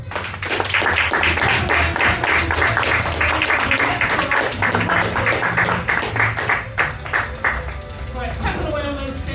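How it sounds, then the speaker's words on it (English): Loud audience clapping at a comedy hypnosis show at the Colchester Fringe, a burst of applause with rhythmic tapping mixed in under music, fading toward the end. "give them a big round of applause"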